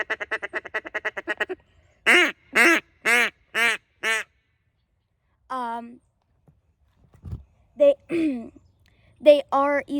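Duck Commander Shadow double-reed duck call blown in quacks: a quick rapid run of short quacks, then several loud drawn-out quacks, with more quack sequences near the end and someone speaking between calls.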